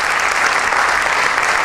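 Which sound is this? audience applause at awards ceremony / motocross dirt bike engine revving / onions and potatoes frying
audience applause at awards ceremony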